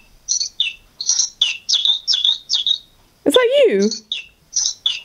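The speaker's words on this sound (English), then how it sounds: "A bird flew in the window." A small bird that flew in through a bedroom window chirps in a run of quick, bright, high tweets, close and fairly loud, broken by a brief rising squawk-like call as a person speaks.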